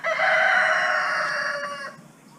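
A native rooster in a backyard breeding pen gives one loud, close crow lasting about two seconds, tapering off at the end, with no talk over it.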